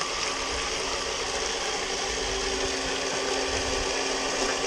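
A rock tumbler running with water, a loud continuous mechanical whir and rumble with a steady hum, unbroken and close.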